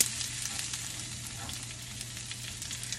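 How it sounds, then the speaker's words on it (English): Peppers hitting a hot pan of caramelized onions during cooking of ground bison, giving a steady, close sizzle and frying hiss that holds evenly throughout with no talking. "Now I'm gonna add my peppers."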